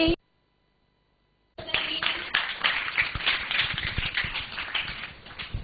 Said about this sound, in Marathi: हिच्यासाठी टाळ्या वाजा बघू सगळ्यांनी